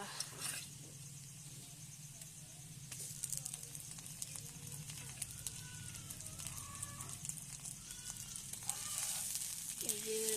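Garlic and ginger paste frying with onions in a pan, a low continuous sizzle with light crackles and occasional stirring scrapes throughout.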